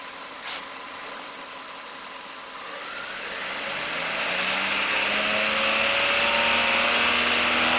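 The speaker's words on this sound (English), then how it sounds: "I'm going to go ahead and rev the engine up a little bit" A 2016 Chevrolet Sonic engine idles steadily, then revs up and climbs in pitch, holding at a louder, higher whine. The engine is close by, with no talking.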